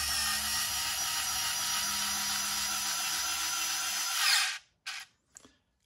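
A Skil 4V cordless screwdriver drives a machine screw clockwise, its motor whirring loud and steady for about four seconds before stopping, followed by two brief short bursts.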